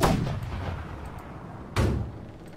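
Two booming ship cannon shots in the naval video game Blackwake, spaced well apart, each a sharp loud blast trailing into a low rumbling decay, with no talking.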